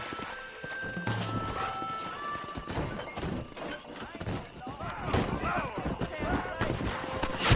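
Horse hooves clip-clop steadily in the Red Dead Redemption video game on Xbox One, with a horse whinnying partway through. Loud, constant galloping plays alongside game sounds and voices.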